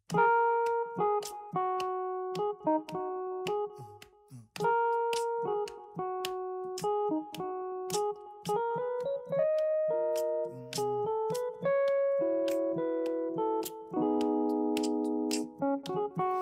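Solo piano plays a clear melody over chords struck on each phrase, with distinct note attacks and short pauses between phrases; close and moderately soft.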